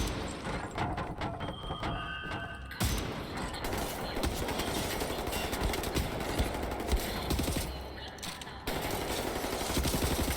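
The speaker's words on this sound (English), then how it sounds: "Stop shooting me!" Enemy gunfire in the first-person shooter Wolfenstein: The New Order, dense rapid automatic bursts and shots hammering almost continuously, loud and close, with a brief drop near the end before firing resumes.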